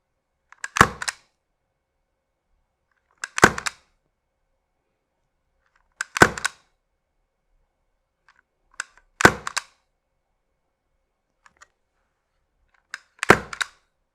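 Two airsoft pistols, a Tokyo Marui Mk 23 and a Novritsch SSX-23, fire single shots: five sharp, loud cracks spaced roughly three seconds apart against near silence, with faint clicks between.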